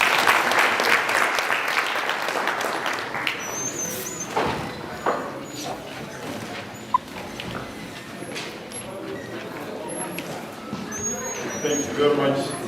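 Audience applause at a law school seminar on gender-based violence held with provincial police, a steady round of clapping filling the room and fading slowly, with some talk mixed in.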